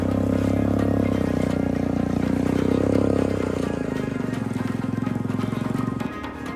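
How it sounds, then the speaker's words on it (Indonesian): A motorcycle rides over a hard dirt road through forest in Papua, giving a continuous loud engine drone with a rough, bumpy texture that eases slightly toward the end. "motor melaju di atas tanah yang keras"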